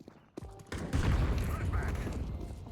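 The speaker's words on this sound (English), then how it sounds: "I'm throwing a flashbang." A flashbang grenade thrown in a shooter video game bursts into a loud, dense blast of booming and crackling noise that sustains with gunfire-like clatter, while players talk over it.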